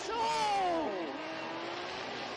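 A drift car at a Formula Drift Japan event slides and spins out after losing a tire, its engine wailing and sweeping down in pitch amid tire noise, loud and continuous at first, then easing to a lower, steady drone.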